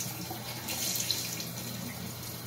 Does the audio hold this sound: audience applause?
no